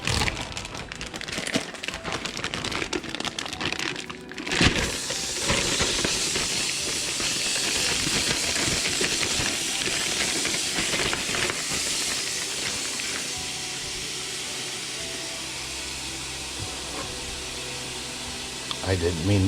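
Venison browning in a pot for chili, giving a steady, loud hiss and sizzle that runs unbroken for about twenty seconds, with scattered crackles and an especially bright burst near the start.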